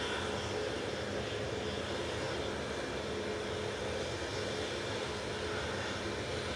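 A Boeing 737 Max 8 jet roars steadily on its takeoff run at Manchester Airport, a broad, constant engine rush that stays loud and unbroken for the whole stretch with no voices.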